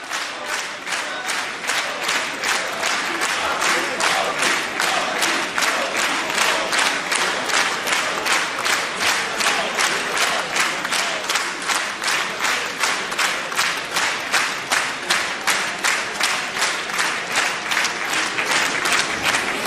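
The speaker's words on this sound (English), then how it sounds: "A rapturous applause for the Indian Prime Minister." Rapturous applause fills the Israeli Knesset for the Indian Prime Minister, a dense, steady roar of many hands clapping in a large chamber that lasts throughout at an even, loud level.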